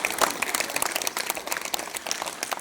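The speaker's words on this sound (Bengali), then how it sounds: "জোরে হাততালি দাও" An audience at a spring celebration event applauds with dense, continuous clapping that stays fairly even, heard from within the crowd.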